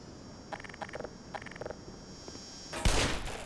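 An automated turret in the video game Black Mesa fires several short, rapid bursts of gunfire, followed by a louder, harsher blast near the end.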